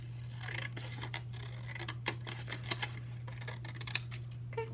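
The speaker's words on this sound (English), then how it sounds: "I'm just gonna cut this at the bottom" Ambidextrous scissors with two identical finger holes snip through paper in a series of short, crisp cuts. The close, quiet strokes come at irregular intervals over a steady low hum, with no talking.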